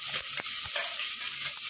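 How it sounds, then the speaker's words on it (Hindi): Sliced onions fry in hot ghee with whole spices for a veg biryani, giving a steady close sizzle broken by a few soft stirring knocks. "अब हम डालेंगे प्याज"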